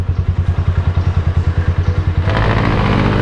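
A motorcycle with a new clutch lining and oil seals idles close by with a rapid, even thumping beat, then is revved into a loud, steady roar.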